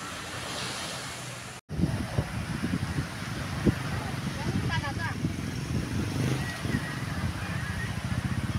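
Steady surf washing in and out on Cagsiay beach, with wind buffeting the microphone, a continuous rushing roar with a brief dropout early on.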